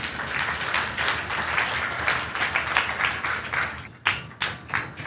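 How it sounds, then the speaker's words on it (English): A church congregation at a deliverance service claps for Jesus Christ, a steady dense wash of many hands that thins into separate sharper claps near the end. "Clap for Jesus Christ."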